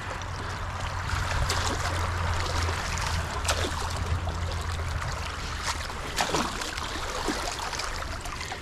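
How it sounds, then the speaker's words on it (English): Rain-swollen creek water flowing strongly past a culvert and beaver dam in Wood Creek, a steady rushing wash with faint trickles, close and continuous with no talking. "Yeah, there's a lot of water flowing through here."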